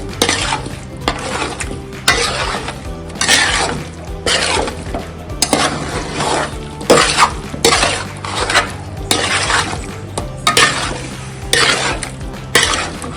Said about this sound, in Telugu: పెరుగు వేసిన తర్వాత మంచిగా కలుపుకోండి